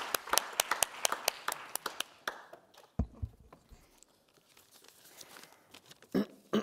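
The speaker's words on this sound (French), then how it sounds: "On peut l'applaudir." Audience applause at a French urban-psychoanalysis agency event, a burst of many hands clapping at the start that fades into scattered claps and quiet, with a brief renewed clatter near the end.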